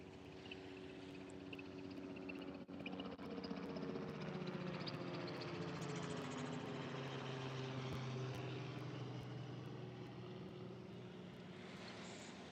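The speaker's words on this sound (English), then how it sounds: "nothing that says serenity like a helicopter flying overhead" A helicopter passes overhead outdoors near a cruise port, its steady engine and rotor drone loud and continuous throughout, swelling slightly in the middle.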